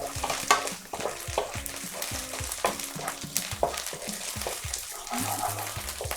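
Vegetables for spring rolls sauté over medium heat, a steady sizzle and crackle of frying broken by repeated scraping and stirring strokes of a utensil in the pan.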